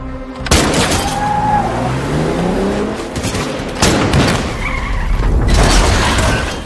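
A car overturns during a film chase, a loud crashing tumble with shattering and impacts, with booming bursts and skidding noise around it, rendered as an action soundtrack.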